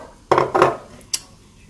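Almonds and peanuts are tipped into a pan of melted butter, oil and sugar, giving two quick clattering pours followed by a single light knock, close and alone.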